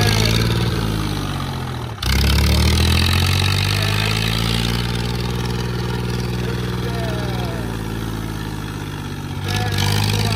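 A tractor engine runs steadily nearby, a low, even idling drone with a brief dip near the start and a slight swell at the end.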